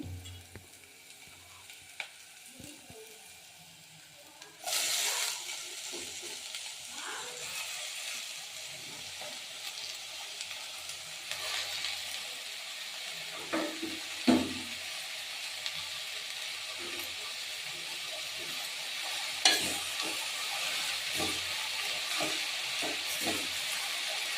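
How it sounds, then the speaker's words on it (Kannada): Onions fry in oil with mustard seeds, and fenugreek leaves are added for a green leaf stir-fry, filling the pan with a steady, close sizzle. Occasional clicks and scrapes of stirring break through the hiss. "ಈರುಳ್ಳಿ ಸ್ವಲ್ಪ ಫ್ರೈ ಆಗಲಿ."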